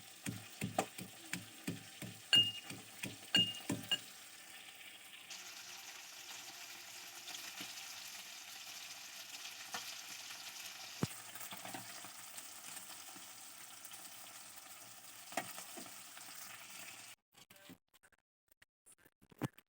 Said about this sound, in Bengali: বাটা মাছগুলা ভেজে নিচ্ছি